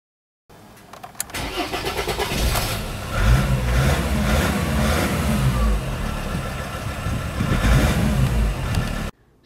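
A car with a newly replaced fuel pressure sensor cranks and starts while hot, then settles into a steady close idle with a few light revs, all without speech.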